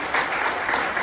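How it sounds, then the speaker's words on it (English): A seminar audience gives a brief, steady round of clapping, moderately loud and evenly sustained. "Give her a round of applause just for joining in."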